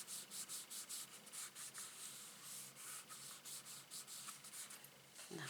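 Paper pressed onto a handmade card is rubbed down with quick, repeated strokes, a soft rhythmic scuffing close by that ends with a light tap, faint and with nobody talking.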